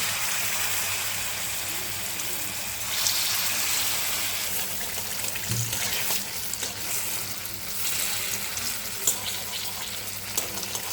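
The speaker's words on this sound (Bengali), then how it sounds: "ঘি আর তেল একসাথে গরম করে নিয়েছিলাম, এবার একে একে বড়াগুলো ভেজে নেব।" Bora fritters fry in a mix of hot ghee and oil, giving a steady, soft, continuous sizzle and bubbling up close, with faint clinks of a utensil now and then and no voices.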